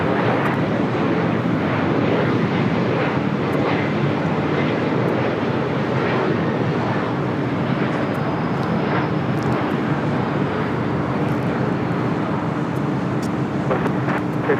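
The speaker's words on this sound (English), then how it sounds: "the Emirates A380 Super crossing over to 5 to left, now making that left-hand turn on the Alpha" An Emirates Airbus A380 taxis at LAX, a sustained, heavy engine rumble with a mix of wind buffeting on the microphone, steady and moderately near throughout with no talk.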